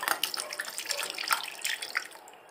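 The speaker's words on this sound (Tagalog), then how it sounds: "Ang next naman mga palangga is i-drain din natin yung nata de coco." Liquid drains from canned nata de coco, a light splashing, trickling pour with scattered drips, close and fairly quiet, lasting a couple of seconds with no talk.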